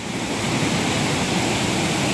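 The waterfall at Talde, Sancordem roars in a dense, steady rush of falling water, loud and close, with no voices over it.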